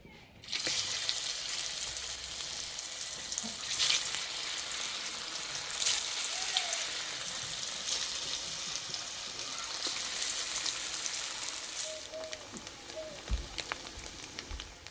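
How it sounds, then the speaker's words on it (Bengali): Paneer pieces fry in white oil with a little salt and turmeric in a kadai, a continuous close sizzle with faint scattered pops and light clinks near the end. "পনিরগুলো হালকা করে একটু ভেজে নেব।"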